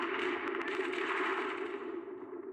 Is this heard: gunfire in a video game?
yes